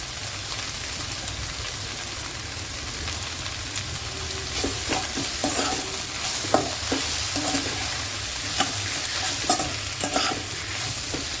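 Aloo methi, potatoes and fenugreek leaves with coriander and lemon juice, frying in a pan, giving a steady low sizzle with intermittent clinks and scrapes as it is stirred.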